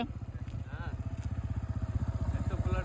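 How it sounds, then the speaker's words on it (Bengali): A motorcycle engine putters steadily nearby with a rhythmic throbbing idle while people talk over it. "এই যে আমাদের সেট আসছে, এটা হোসেন সেট আছে, কার্লি আসেনি, বাইকে এসছে"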